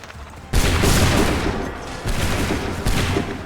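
Massed musket volleys crack out in Assassin's Creed III Remastered, a loud ragged burst of many shots at once followed by two further rolling volleys, each fading into echo.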